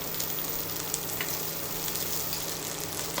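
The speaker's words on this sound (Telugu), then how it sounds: "వీటిని మంచిగా వేయించుదాం అన్నమాట." Green chillies and tomatoes sizzle steadily in a hot pan with a pinch of turmeric, a continuous close, even frying hiss with no talk.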